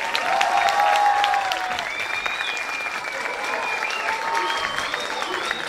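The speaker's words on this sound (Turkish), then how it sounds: "Bu akşamın hazırlanmasında öncelikle çocuklarımıza kocaman bir teşekkür alkışı alalım mı?" Audience applauding at a kindergarten graduation and end-of-year show, a sustained crowd of clapping hands with faint whistles and children's voices mixed in, moderately close and fading slightly after the first second.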